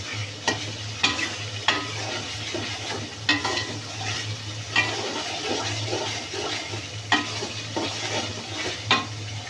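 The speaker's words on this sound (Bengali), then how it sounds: "একে একটু ভালো করে কষিয়ে নেই মশলাটাকে।" Spice paste with sugar being stir-fried in a pan for tehari, a low steady sizzle broken by repeated scraping strokes of a spoon against the pan at an irregular rhythm.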